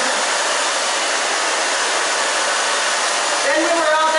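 A hair dryer blows steadily and loudly at close range while drying a woman's short stacked bob, a continuous airy roar, with a voice starting to talk over it near the end.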